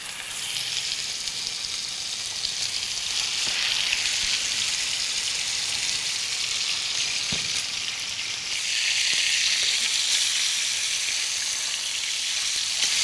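Entrecote steaks seasoned with salt and pepper sizzle steadily in a hot pan, a loud, continuous hiss with faint crackles throughout and no talking.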